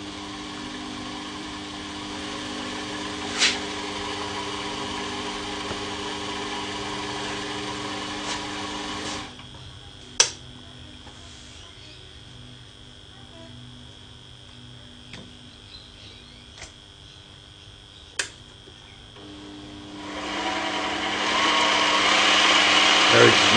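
A lathe fitted with a modified spindle box runs steadily with its carriage traversing under power, a constant mechanical whine with a few sharp clicks and knocks, the motor tone dropping for a stretch before building again at the end.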